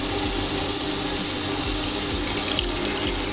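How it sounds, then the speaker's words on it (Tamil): Paneer soaking water is poured slowly into a masala gravy in a pan, a steady close trickling and splashing of liquid over a low background hum, with no talk. "நாம் வந்து அந்த பன்னீர் ஊற வச்சுருந்த தண்ணியை கொஞ்சம் கொஞ்சமாக ஆட் பண்ணலாம்."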